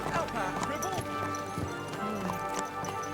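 Horse hooves clip-clopping in the medieval game Kingdom Come: Deliverance 2, a steady rhythmic gait mixed with a neigh, town ambience and voices talking over it.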